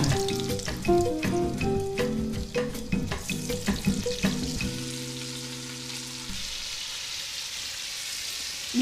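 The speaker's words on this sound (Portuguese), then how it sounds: "Agora entra a carne e a páprica." Beef and paprika hit a hot pan of butter and olive oil with a loud, steady sizzle and some clanking of a utensil, then the frying settles into a quieter hiss.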